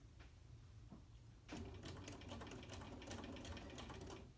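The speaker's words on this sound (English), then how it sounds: "make sure everything's lined up and go to the sewing machine" A sewing machine stitches a quilt block seam at a scant quarter inch, starting with a few soft clicks and then running in a steady, fast, close whir.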